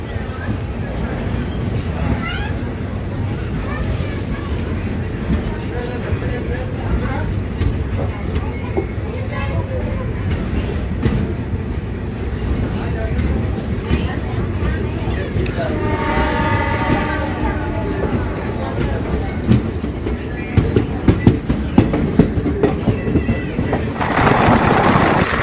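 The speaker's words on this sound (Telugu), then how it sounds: "పెనుకొండ రైల్వే స్టేషన్ డిపార్చర్ చూడండి ఫ్రెండ్స్." A Hindupur–Guntakal DEMU train pulls out of Penukonda railway station, its engine rumbling steadily with rising wheel and rail noise and a brief horn note, with people talking faintly in the background.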